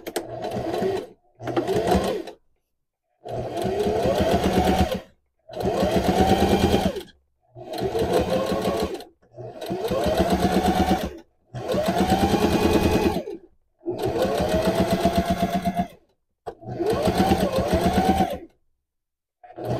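A sewing machine stitches a paper bag waist skirt for a Barbie doll, running in eight or so close, steady bursts of a few seconds each with a rising whir at the start, separated by short pauses.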